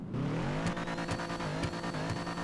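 A sports car in GTA 5 Online revs its engine with turbo whoosh. The tone stays steady and loud throughout, with rhythmic pulses and a rising whistle, and no voices are heard.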